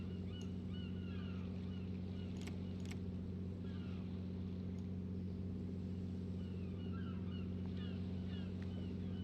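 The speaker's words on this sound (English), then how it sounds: "I'm gonna stop the engines then." Crab fishing boat engines in the video game Deadliest Catch: Alaskan Storm drone in a constant heavy low throb, steady and loud throughout, with faint clicks and clatter over the top.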